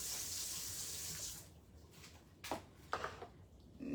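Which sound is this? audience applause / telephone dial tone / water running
water running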